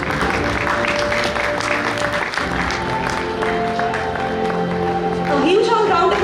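An audience at a chartered accountants' sub-regional conference applauds during a memento presentation. The clapping is strong early on and is mixed with sustained tonal sound and voices, with a rising vocal sweep near the end.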